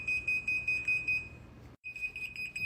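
A detector alarm in a hotel room sounds a steady, piercing high-pitched beep that repeats in rapid pulses. It cuts out for a brief moment, then resumes at the same volume. No one speaks.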